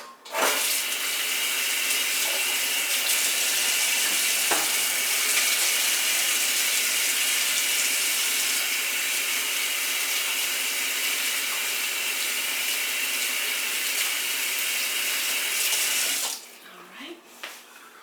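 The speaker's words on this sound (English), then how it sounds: "I'll put these in the sink. Wash my hands." A kitchen sink tap runs in a loud, continuous rush of water while hands are washed. The flow shuts off near the end, leaving quiet handling sounds.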